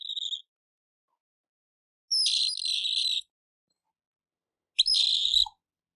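Pet cockatiel giving shrill, piercing screams in three separate bursts, the middle one lasting about a second, close and loud with silence between.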